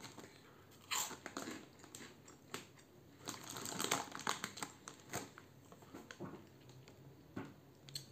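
Close crunching and biting of pizza-flavoured Cheetos corn snacks, a run of crisp irregular bursts with crinkly rustles between them, with no talk over it.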